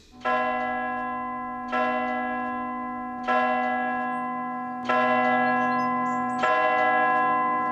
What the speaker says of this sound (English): This rope leads up to the bells, and I give it a good tug to ring them, like this.